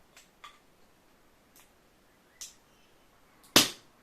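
A bottle of Brazilian coffee farmhouse ale is opened: a few faint clicks and taps, then one sudden loud pop and rush of gas near the end.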